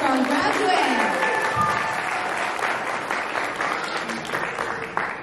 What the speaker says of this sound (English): Have another round of applause for our rock star graduate.